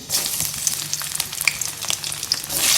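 Chopped garlic dropped into hot mustard oil in a pan: a loud, dense crackling sizzle with bright spitting pops, close up and continuous, no voices.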